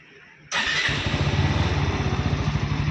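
A motorcycle engine starts abruptly after a short quiet moment and settles into a loud, close, rhythmic idle with a steady pulsing beat.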